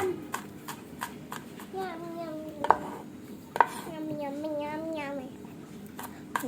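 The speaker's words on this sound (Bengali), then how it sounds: "এজন্য বেশ কয়েকটা রসুন আমি কুচি করে কেটে নিচ্ছি।" Garlic cloves being finely chopped with a knife on a board, quick regular light taps, faint and close, with a voice talking over the later part.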